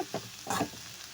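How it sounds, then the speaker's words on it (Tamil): Soft scraping and sizzling as flattened rice is stirred in a hot pan, a couple of quick strokes close by with no talking. "இங்கே பாருங்கள் நல்லா கிளறி விட்டாச்சு"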